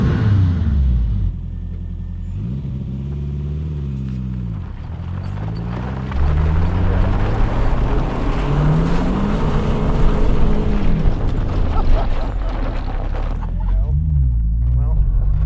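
A mid-engine 1983 Renault R5 Turbo 2 engine revs and shifts through gears, rising and falling in pitch while driving, with an excited voice talking over it.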